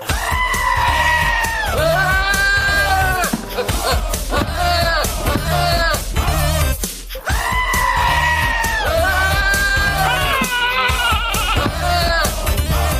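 A loud goat bleating sound effect repeats in long, wavering, almost screaming cries, several in a row with a brief pause partway through, over a busy mixed background.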